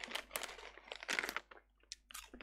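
Crisp plastic bag of Lorenz Naturals Mediterranean vegetable chips torn open up close, a burst of loud crinkling and ripping with brief crackles.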